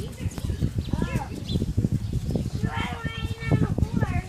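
A horse walks with a child riding on a muddy, leaf-strewn trail, its hooves clopping steadily close by under near-continuous adult and child chatter, with a few bird calls in the background.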